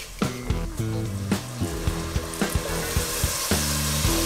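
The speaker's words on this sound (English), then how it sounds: "we're gonna deglaze that pan with about 1/2 cup" A hot pan for a spring herb soup with fregola and pancetta is deglazed with about half a cup of dry white wine, a loud bubbling sizzle heard under rhythmic background music.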